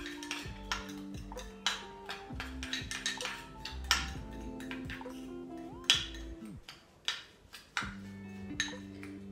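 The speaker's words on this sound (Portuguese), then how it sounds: "Coloquei uma colher de café e uma colher de leite. E vocês vão mexer bem." A metal spoon stirs coffee and milk in a small cup, clinking rapidly and rhythmically against the sides, close and fairly quiet, with a few brief pauses.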